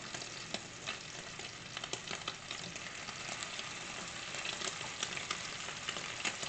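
Crab cakes fry in a pan with a soft, steady crackle and sizzle dotted with small popping spits, fairly quiet and close, with no talking.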